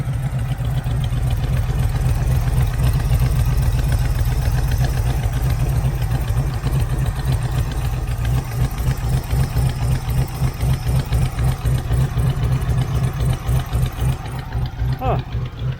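Low, loping idle from a 1980 Camaro Z28 V8 pulled from a junkyard, running unevenly with a possible miss or cam, steady and close for the whole stretch, with a voice briefly heard over it near the end.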